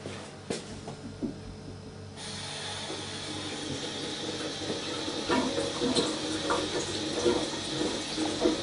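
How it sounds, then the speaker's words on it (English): Water running from a kitchen-style tap: a faint trickle and handling clatter, then a steady full hiss of flowing water that starts abruptly and continues close by. "So we've got the water running now."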